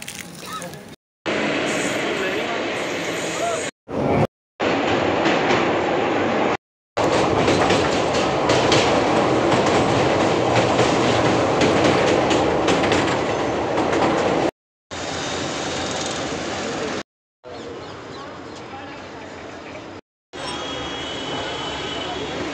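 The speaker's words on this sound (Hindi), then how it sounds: "ट्रेन चल चुकी है, हम सही समय पर अंदर आए।" A moving train on the Haldwani to Delhi run gives a loud, steady rumble with rail clatter, broken by several abrupt cuts into short separate stretches.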